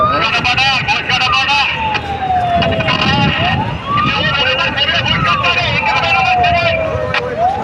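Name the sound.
fire service vehicle siren at Dhaka airport fire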